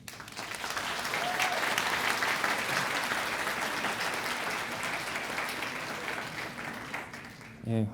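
Audience applause fills a lecture hall at the Politécnico for a guest speaker on public transport demand modeling in Querétaro, an even, moderately loud round of clapping for several seconds before it tapers off.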